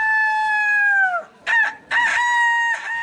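A man imitating a rooster's dawn crow, a loud close drawn-out cock-a-doodle-doo call followed by two shorter crowing bursts, alone with no other sound.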